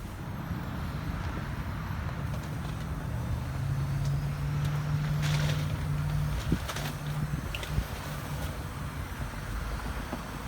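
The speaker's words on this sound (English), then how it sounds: "we're ready to put it in gear, and we're ready to climb some rocks." A Jeep Rubicon crawls over rocks with its engine droning low and steady, a sustained tone rising partway through, and a few faint knocks and scrapes from the terrain.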